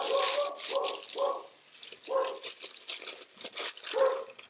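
A dog barks in short runs, with a quick triple, then a single bark, then another single, all moderately close indoors over a faint background hiss.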